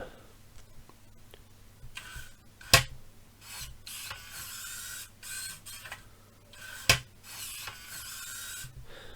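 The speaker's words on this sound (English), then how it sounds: "so our pretty slow gear motor is actually fairly fast when it's on this" A small gear motor runs on a model Volvo A40D articulated dump truck, giving a quiet mechanical whir with intermittent ratcheting rubs and two sharp clicks, close by with no speech.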